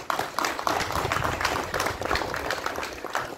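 Audience clapping at an inter-village volleyball and football tournament, a steady, dense patter of many hands held at moderate level throughout with no break.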